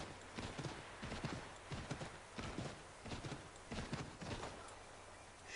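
Rhythmic hoofbeats of a galloping horse in the video game Assassin's Creed pound steadily over a dense, noisy background, loud and continuous.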